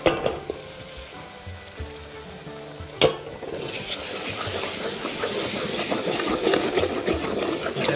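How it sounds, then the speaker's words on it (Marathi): Ground onion-garlic masala paste roasting in oil for a rustic village-style spicy chicken curry, a steady close sizzle with stirring scrapes, one sharp clack near the middle and a denser frying hiss afterwards. "आता आपण याला तेल सुटेपर्यंत भाजून घेऊ."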